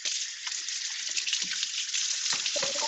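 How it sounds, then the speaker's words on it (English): Kitchen tap water runs steadily over hands being washed after spreading out raw pumpkin seeds, a close, even hiss with small splashy shifts throughout. "So now I gotta wash my hands."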